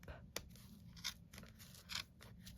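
Scissors snip through chunky yarn on a ribbed beanie, three quick close cuts spaced apart over a quiet background.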